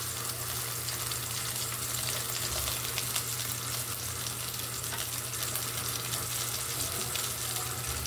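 Water pours steadily into a cooking pot of chicken soup, a continuous rushing splash with no pauses, close by and moderately loud.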